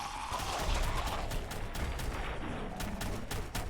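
Repeated gunshots in Fallout 4, a quick string of sharp cracks at a fairly even pace over a rumbling background, fairly quiet overall with no talking.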